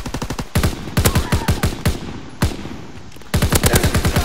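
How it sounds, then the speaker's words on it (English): Rapid bursts of automatic assault rifle fire in Call of Duty WWII multiplayer, loud and close, firing in several sustained volleys with brief pauses between them. "I'm trying to shoot these guys from halfway across the map with a freaking assault rifle."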